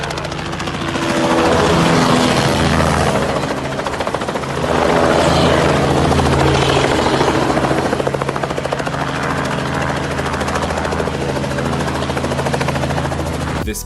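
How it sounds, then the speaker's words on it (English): A helicopter sets down in a showy landing, its rotor and turbine roar loud and close throughout, with a steady low harmonic hum beneath dense broadband chop and no pause. "This helicopter pilot showing off his landing skills"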